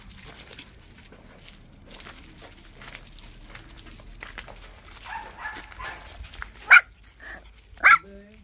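A puppy at a grandmother's house gives two sharp, fairly close high barks near the end, after quieter shuffling and background noise.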